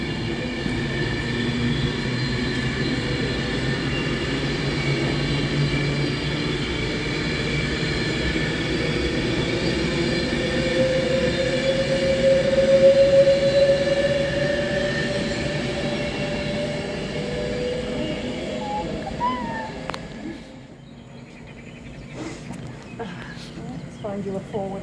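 Passenger train running on the line toward Crewe, a steady rumble with rail noise throughout and a faint wheel squeal in the middle, easing off near the end, with people chatting quietly over it.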